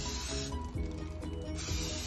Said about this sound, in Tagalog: Okay, i-spray niya yung isda.